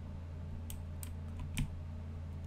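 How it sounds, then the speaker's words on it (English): Computer keyboard typing during a Minecraft game, heard as a few quiet, scattered key clicks over a steady low hum, with one slightly louder press. "Sorry if my keyboard's obnoxious."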